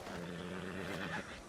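A horse in the video game Red Dead Redemption II gives a faint whinny over low background game ambience, brief and quiet, with no talk.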